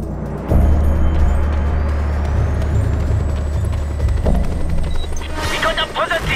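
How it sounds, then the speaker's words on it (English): Military helicopter in the Just Cause 2 video game, a loud steady rotor drone with low engine rumble running through nearly the whole stretch, mixed with game effects and shouted voices. "That helicopter will tear us to pieces!"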